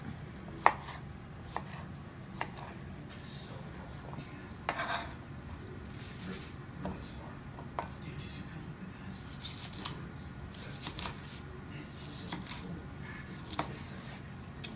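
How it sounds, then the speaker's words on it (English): A knife chops asparagus and peppers for a chicken cordon bleu dinner, giving a steady run of close, crisp taps, some louder than others, with no talking. "all of the peppers and the asparagus are chopped up"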